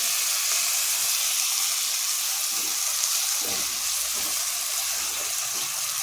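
Jaggery melting in a pan for a sweet-sour chili pickle gives off a steady, even sizzle and hiss throughout, close and unbroken, with faint low background sounds beneath.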